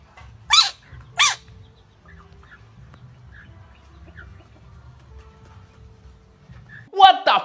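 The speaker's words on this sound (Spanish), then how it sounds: "Esa rana se creía un perro." A frog gives two short, loud, dog-like barking croaks close together near the start, then a long quiet stretch with a low rumble, and one more harsh call right at the end.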